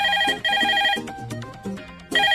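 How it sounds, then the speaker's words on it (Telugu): A telephone rings with a bright electronic ringtone, repeating tonal bursts in a quick rhythm, loud and close with no talk over it. "ఫోన్ చూడు."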